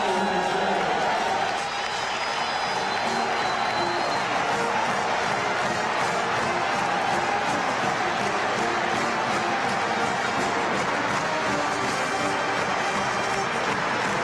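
At Iowa State's James H. Hilton Coliseum in Ames, a basketball crowd roars and cheers during a timeout against Missouri, a dense sustained wall of noise with a commentator's voice faintly mixed in.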